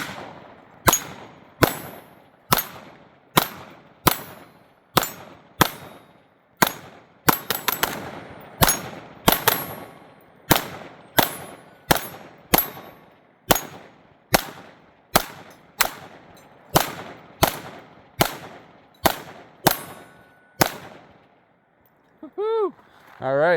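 A Smith & Wesson .22 Magnum fires a long string of sharp, evenly spaced gunshots, about two dozen loud close reports with brief ringing tails, ending in a short pause.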